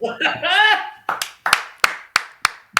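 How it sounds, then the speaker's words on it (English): A short burst of laughter gives way to a handful of sharp, evenly spaced hand claps, about six in a row, close and clear. "Big round of applause for Tuba dudes, Jack, Farrell, Toppy."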